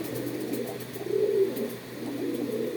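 Soft, low cooing of local and Pakistani breed pigeons kept at a house rises briefly in the middle over a steady background hum, gentle and fairly close, with no voices.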